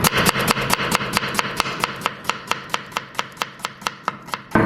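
A medium onion being chopped with a knife on a board for a street-style curry pakora, giving a steady run of sharp, evenly spaced knife strikes, close and clear, with no talking.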